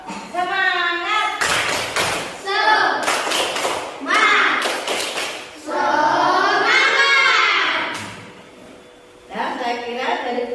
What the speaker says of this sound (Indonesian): Dan sebelum ditutup, tepuk semangat dulu ya.